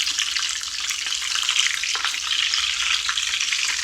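Oil sizzles and crackles steadily in a small frying pan, a dense close hiss with occasional sharper pops and a light clink of a utensil partway through.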